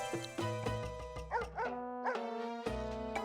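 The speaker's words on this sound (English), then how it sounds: "The Welsh Corgi." A Welsh Corgi barks in the PS1 game The Dog Master, a run of clear, close, repeated yips and bow-wows in a quick irregular rhythm, heard alone without talk.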